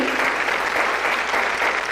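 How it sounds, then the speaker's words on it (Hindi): Hearty applause from an audience at a training session, a steady wash of many hands clapping at close range for the full two seconds. "एक बार जोरदार तालियां होना चाहिए हमारे इस ग्रेट लीडर्स के लिए"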